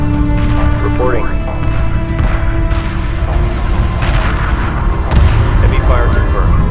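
Space battle weapons fire in the strategy game Homeworld 2 Remastered: dense, continuous bursts and booms of ship guns layered over a steady game soundtrack, with radio-style unit voices cutting in.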